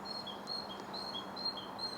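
Birds chirp outdoors on a bright, calm late-autumn day, repeating thin, high tweets at a moderate distance over a soft, steady background hiss.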